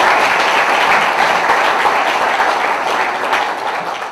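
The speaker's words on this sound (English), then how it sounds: "You'd all give them a round of applause," Sustained applause from an audience at an economic development corporation's annual meeting, loud dense clapping that fills the room evenly and fades slightly at the end.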